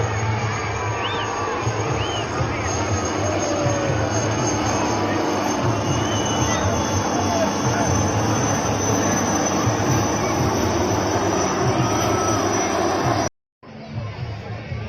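A military aircraft flies a test round at the 2024 Chennai air show, producing a loud, continuous jet roar that fills the air for many seconds before a sudden brief cut. Crowd noise and faint talk run underneath.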